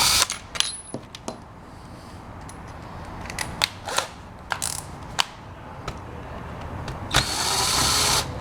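A power screwdriver fitted with a flathead bit drives screws into a contactor, giving short bursts of whirring and ratcheting separated by clicks and handling noise, then a longer steady run near the end.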